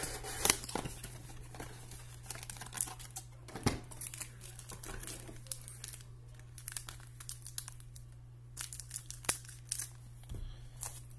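Foil wrappers of 2023 Leaf Trinity football trading card packs crinkle and tear as they are ripped open, with sharp rustling bursts over a steady low hum, close and moderately quiet, no talking.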